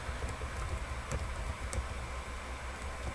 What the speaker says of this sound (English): we're going to type in settlements